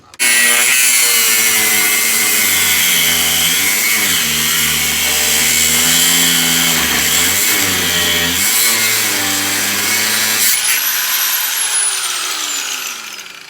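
A cutoff wheel grinds loudly and continuously through the rear bumper of a crashed 2006 Mercedes Sprinter van, a harsh sustained whine that holds for over ten seconds before winding down.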